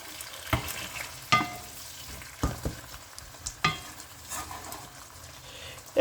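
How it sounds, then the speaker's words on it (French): Tomato cooking in a pan with fish and mushrooms, a steady close sizzle broken by several sharp scrapes and knocks of stirring, with no talk. "on va laisser cuire la tomate"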